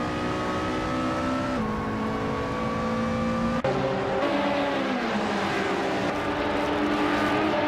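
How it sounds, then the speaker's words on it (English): Porsche 718 Cayman GT4 race car engine in a racing video game, a loud steady drone with gear shifts and pitch climbing and dropping, one sharp click midway, no talking. "Maya is driving a Porsche 718 Cayman GT4, currently in 5th place"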